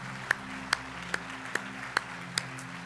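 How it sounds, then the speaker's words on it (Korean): A church congregation applauds during a retirement and ordination thanksgiving service, a few sparse, distinct claps spaced about every half second, faint and distant in a reverberant hall. "한번 축하 박수해 주시기 바라겠습니다."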